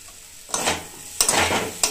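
Semolina in a hot pan hisses and sizzles in three separate bursts as splashes of water hit it, each a loud, close crackle that fades before the next.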